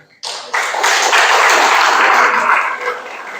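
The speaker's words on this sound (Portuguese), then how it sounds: "Você pode aplaudir ao Senhor?" A church congregation applauds the Lord during a sermon, the clapping bursting in suddenly, quickly swelling into a full, loud wash of hands, then easing slightly toward the end.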